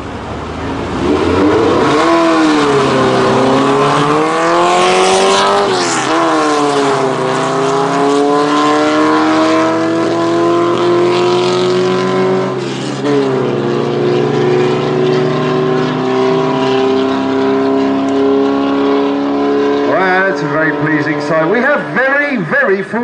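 A Volkswagen Samba bus revs hard and accelerates at a drag strip, its engine note climbing loud and close before rising again near the end, with announcer-style talk and crowd noise mixed in.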